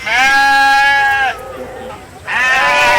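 Sheep bleating at a country fair showmanship class, two loud, close, drawn-out wavering bleats separated by a short pause, with quieter background noise between them.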